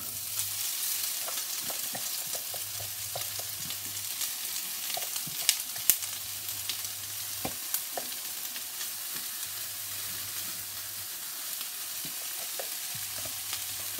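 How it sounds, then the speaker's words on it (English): Steady sizzle of onion, garlic, peppers and bacon frying in a pan, with occasional clicks and scrapes of stirring, close and continuous. "I'm going to fry off my onion, garlic, peppers and bacon"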